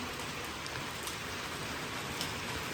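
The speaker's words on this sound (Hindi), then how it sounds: "बारिश माशाल्लाह से अच्छी हो गई है," Steady rain falls on a thatched shelter roof in a Pakistani village, a dense, even patter close by with scattered louder drops, no voices.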